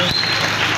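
A church congregation applauding, a brief loud wash of clapping and crowd noise with a voice over the top.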